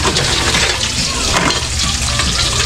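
Food sizzles loudly and steadily in a hot pan of oil at close range, a dense continuous crackle with no talking over it.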